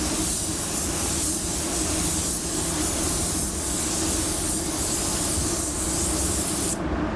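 A paint spray gun hisses in a steady, loud continuous spray with slight pulsing as passes are made, in cold winter conditions, ending abruptly near the close.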